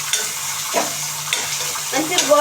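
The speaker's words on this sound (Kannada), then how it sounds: "ಇದು ಈರುಳ್ಳಿ ಎಲ್ಲ ತುಂಬ ಚೆನ್ನಾಗಿ ಫ್ರೈ ಆಗಲಿ." Onions frying in a pan for vegetable biryani, a steady sizzle with a few scraping stirs of a spoon, close and fairly loud, with no talking.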